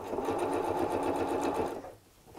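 A sewing machine runs a quick, steady top stitch along a storage cube seam, close and alone for about two seconds before stopping.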